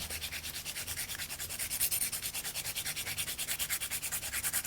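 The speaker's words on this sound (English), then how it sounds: "I just might take my sanding pad one last time." Quick, even rhythmic scratching of a sanding pad rubbing against a pencil tip, close and quiet, several strokes per second with no talking.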